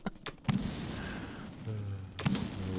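Strafing attack in the strategy game Axis and Allies 1942: a few sharp gunfire bursts, with two quick cracks, a louder volley, then more shots near the end over a low rumbling bed.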